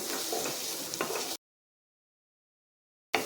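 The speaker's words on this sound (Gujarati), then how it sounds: "તો હવે આપણે બધું જ અહીંયા સરસ સાતરી લઈશું।" Onions, green peas and mixed vegetables sautéing in a pan over a low flame give a steady, soft sizzle with faint stirring scrapes, broken by a stretch of complete silence before the frying resumes.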